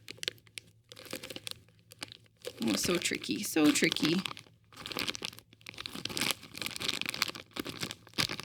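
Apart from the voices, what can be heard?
tearing open an alphabet soup packet without scissors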